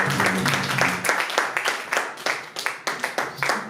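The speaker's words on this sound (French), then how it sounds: "On acclame pour les chants, pour ce beau travail." A church congregation claps for the singers during a Sunday service, a rhythmic run of sharp, close hand claps over a low murmur of voices.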